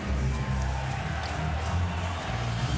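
A football stadium crowd at halftime of a Dallas Cowboys at Buffalo Bills game cheers as Thurman Thomas is presented with his Hall of Fame ring, a broad, sustained roar with scattered whoops from a large distant mass.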